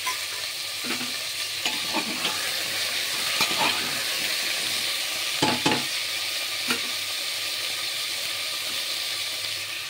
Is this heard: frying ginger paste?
yes